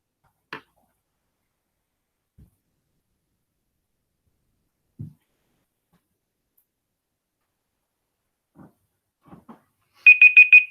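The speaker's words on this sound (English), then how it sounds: "Will not be using that timer again." A timer alarm going off at the end, with a rapid run of loud, piercing electronic beeps after several scattered faint clicks and taps in a quiet room.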